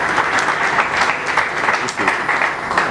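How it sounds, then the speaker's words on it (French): A crowd at a public event in a hall or studio claps in sustained, dense, loud applause that holds steady throughout, with no speech over it. "Applaudissements"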